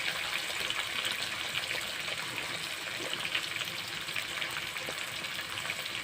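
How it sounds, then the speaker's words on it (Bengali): Potatoes frying in a pan with green chillies and spices, cooking for a Bengali fish curry, give a steady, close hiss of sizzling oil that holds an even level throughout without pauses. "আলুটাকে ভেজে নেব"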